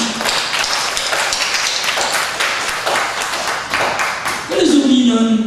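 An audience at a Korean lecture event gives sustained applause, dense clapping throughout, with a voice rising near the end.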